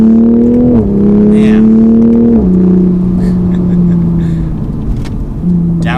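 A 2020 Toyota GR Supra Launch Edition in sport mode accelerates hard, its engine note climbing in pitch then dropping sharply as quick downshifts land, loud and close from inside the cabin.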